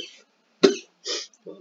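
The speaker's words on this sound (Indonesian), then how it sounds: "Maaf batuk ya." A person coughs a few times in quick succession at close range: a sharp first cough followed by two shorter, throaty ones, with no other sound between them.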